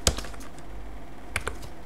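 Typing on a computer keyboard while working in Excel, with a few separate clicky keystrokes heard close up in a quiet room and no voices.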